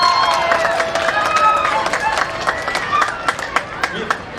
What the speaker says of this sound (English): Once again, you clap her and team for her wonderful work.